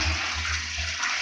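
A push-button toilet flush, heard as a loud, continuous rushing gush of water close by, steady for the whole moment with no talk.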